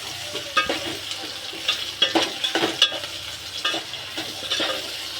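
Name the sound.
frying vegetables in a pan with turmeric and salt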